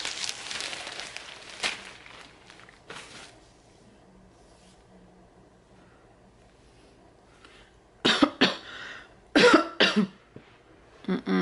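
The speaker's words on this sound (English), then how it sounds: "I'm starting to get a little dry cough." A person with a cold coughs dryly several times, a burst at the start and then harsh, close coughs clustered near the end, with quiet pauses between.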